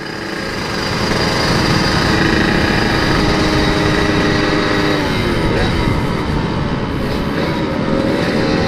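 Kawasaki Ninja motorcycle engine running loud and close for most of the span, a steady broadband roar with sustained tone rather than distinct rev peaks, on a busy street during a night ride.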